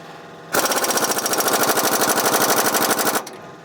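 An air impact wrench hammers on a rear shock absorber bolt of a Nissan Titan in one sustained burst of about three seconds, a loud, rapid, rattling staccato that starts and stops abruptly.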